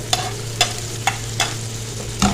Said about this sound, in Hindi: हम इसमें डाल देंगे 1 प्याज, जिसे मैंने बारीक काट लिया हुआ है